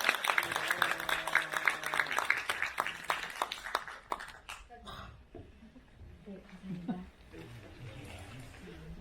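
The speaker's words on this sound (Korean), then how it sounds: "다시 한번 큰 박수 부탁드립니다." Lecture-hall applause follows a talk, a full clatter of clapping that thins and fades partway through while a host keeps talking over it and into the quieter stretch.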